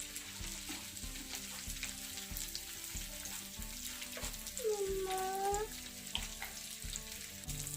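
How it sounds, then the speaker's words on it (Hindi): Aloo matar tikki, potato and pea cutlets, frying in oil in a pan: a continuous close sizzle with soft crackles, plus a brief clink and scrape of a utensil near the middle, no talking. "ये देखें, ये दूसरी साइड से भी फ्राई हो चुकी है।"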